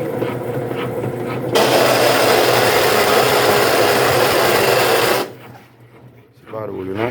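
A Consul washing machine spinning noisily, a loud steady whirring drone that cuts in abruptly, holds for several seconds, then drops away, with faint talk around it.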